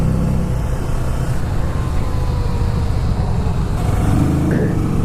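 A Kawasaki Vulcan 650 motorcycle leans through a corner, its engine a loud, continuous drone close to the microphone, with wind roar and a brief voice near the end.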